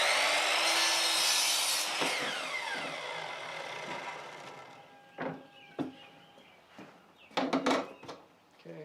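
A saw cuts 1x4 wooden boards into 34.25-inch strapping for a crawlspace door. A loud, harsh cut winds down over about two seconds, followed by a few sharp knocks and clacks of wood being handled.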